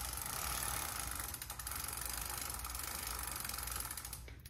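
A wrench tightens a bolt on a Super73 RX Dark Earth e-bike, producing a continuous quiet mechanical clicking and ratcheting over a low background hum, with no talk.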